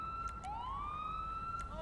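An ambulance siren in GTA wails loudly and close, with a sustained tone that swoops upward and holds, over a low engine rumble.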